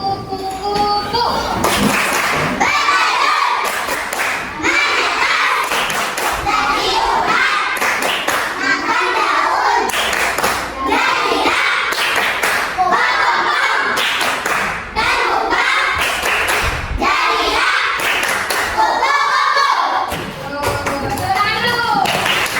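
A group claps out a rhythmic clapping game in quick, tightly synchronized bursts with short pauses between patterns, loud and close, while voices call and chant along throughout.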